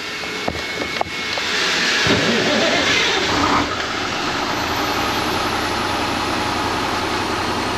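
An ERF EC truck's diesel engine idles while warming up, a steady, loud broadband rumble that swells after a few sharp clanks, then settles into an even drone.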